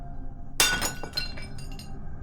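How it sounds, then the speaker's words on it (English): A ceramic mug smashes on a hard floor with one sharp, bright crash, then a short scatter of clinking fragments settling, close and clear with no voices. "I remember the sound of my mug shattering on the floor."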